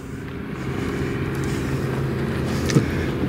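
Airplanes passing overhead outdoors near a parked old station wagon, a steady low engine drone that holds throughout at moderate distance, with a brief click close by near the end.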